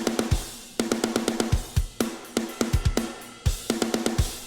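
Programmed MIDI drums with every hit at maximum velocity play a steady, punchy pattern of kick, snare and hi-hats, each stroke equally loud and mechanical, heard alone and close.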